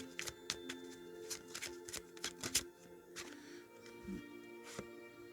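Tarot cards being shuffled by hand, a series of crisp riffles and slaps in quick irregular bursts, close and fairly quiet with no talking.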